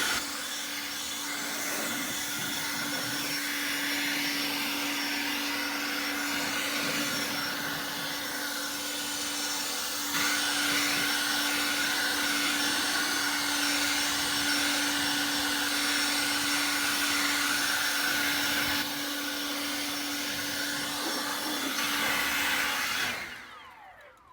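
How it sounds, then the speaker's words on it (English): A blower blasting dust off a dirty surface roars steadily and loud for over twenty seconds, a constant whooshing airflow with a fixed motor tone, then cuts off abruptly at the end. "we have the blower."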